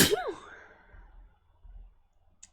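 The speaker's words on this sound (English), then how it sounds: "I have to sneeze" A single sneeze bursts out at the start during a Radish SMP game session, followed by a brief sighing exhale, then low rumble and a faint click near the end.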